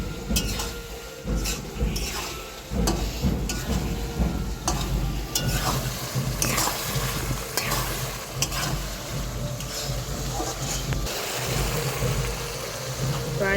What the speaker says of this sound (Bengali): এখন ভালো করে নেড়ে চেড়ে কষিয়ে নেব, আরও 5 মিনিট কষিয়ে নেব